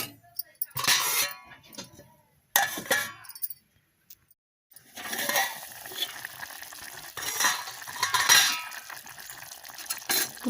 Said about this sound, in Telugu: స్టవ్ మీడియం ఫ్లేమ్లో ఉంచుకొని ఒక 10 నిమిషాలు కాగనిద్దాం.